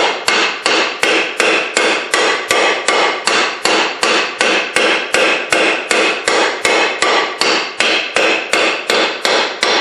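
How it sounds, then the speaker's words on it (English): Steady, evenly spaced metal hammer blows, about two to three per second, as a bearing punch drives a wheel bearing home into a Honda Civic steering knuckle, loud and continuous with no talking. "use that for a bearing punch to drive the rest of the way home"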